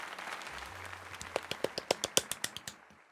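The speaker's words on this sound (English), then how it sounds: "let us give another heartfelt round of applause to Myler" Crowd applause in the video game Pokemon Legends Z-A, a low hum that gives way to a short run of about a dozen sharp, evenly spaced claps, fairly quiet, then stopping abruptly.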